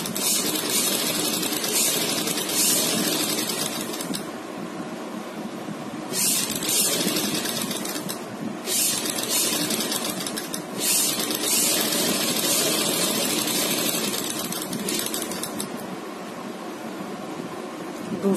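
A sewing machine runs in steady bursts while stitching a neck design on fabric, a continuous mechanical whir broken by short pauses, fairly faint with no talking.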